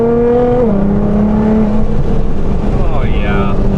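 A Nissan R35 GT-R pulls hard through the gears, its engine note climbing steadily, dipping briefly at each shift, then rising again, loud and continuous from inside the car.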